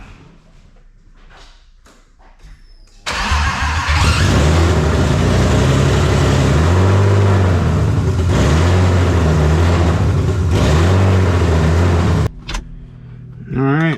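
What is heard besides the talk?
BMW E30 with swapped M50 engine, first start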